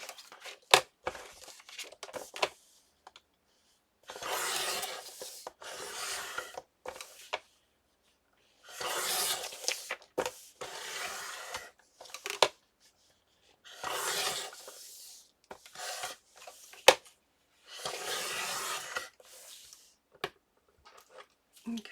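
Paper trimmed for a Christmas accordion booklet, with repeated bursts of a cutter or trimmer slicing through the sheet between quiet pauses and small handling clicks, close by and without talk.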